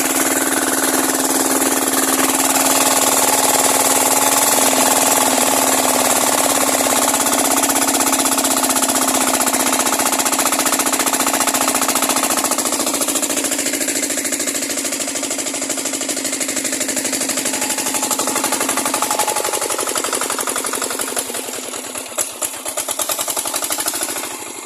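A water pump engine irrigating a rice paddy runs loud and steady nearby with a harsh mechanical rattle, droning on without pause for the whole stretch.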